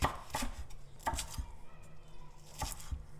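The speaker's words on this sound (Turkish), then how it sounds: "Şimdi biberleri doğrayacağım." A knife chopping peppers on a board in a home kitchen, a few sharp close knocks spaced irregularly over a soft background, with no one talking.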